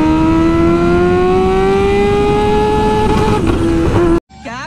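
A Kawasaki H2 Carbon motorcycle at full throttle screams close by, its engine whine climbing steadily in pitch for about four seconds before cutting off abruptly, followed by a brief quieter fluttering tone.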